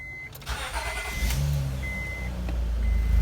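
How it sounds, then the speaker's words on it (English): Car engine started and idling with only the exhaust resonator fitted and no muffler, a fairly close, steady low rumble that builds slightly after the start, with a few light clicks and beeps over it. "We'll turn the car on with just the resonator installed."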